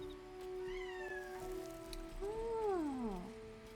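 A cat in Baldur's Gate 3 gives two clear meows, a short high one early and a longer, louder falling one near the end, over a quiet ambient game background.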